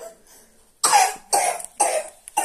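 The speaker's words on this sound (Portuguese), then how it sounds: "Tá tossindo." A child coughs in four sharp bursts, close and fairly loud, each cough separated by brief pauses, with faint background voices before the first.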